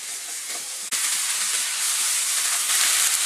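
Sliced onions saute in a pan for Kerala beef roast with a constant, even, close frying hiss and a brief knock near the start.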